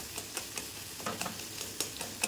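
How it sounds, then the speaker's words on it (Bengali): Egg bhujia fries in a pan while a spatula stirs and scrapes it in quick, regular strokes over a steady sizzle. "তো দেখো এই অবস্থায় এবার ভালো করে এটাকে এবার নেড়ে নিতে হবে"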